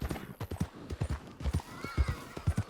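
A horse's hooves clip-clop at a steady walking rhythm in the Western video game Red Dead Online, close and continuous, with no talk over them.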